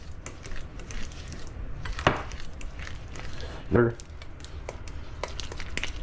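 A fork scrapes and clinks against a medium-sized mixing bowl while mixing butter, sugar and salt. Two short, moderately loud knocks stand out over a steady, muffled background, with a faint voice present.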